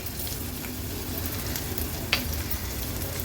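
Green chillies fry in tempering oil for an Agri-Koli style vegetarian thali, giving a steady, close, even sizzle throughout with one brief metallic clink midway and no speech.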